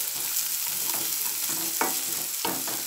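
Chopped onions sizzle steadily in a hot pan, with a few stirring scrapes breaking through the constant crackle; no talking.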